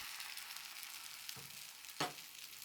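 Egg mixture sizzling in an oiled tamagoyaki pan, a steady close hiss of frying with a couple of soft scraping stirs near the end.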